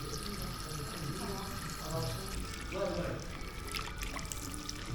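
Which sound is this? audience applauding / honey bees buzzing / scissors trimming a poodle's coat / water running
water running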